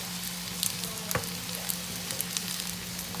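Zucchini, peppers, garlic and herbs with a little salt sauté in a pan, a steady close sizzle running throughout with small stirring pops and crackles on top.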